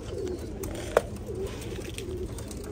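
Rooftop pigeons coo softly in low, rolling repeated calls, fairly faint against a light outdoor background, with one sharp brief click partway through.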